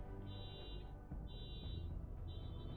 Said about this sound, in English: Sorry, car alarm's going off.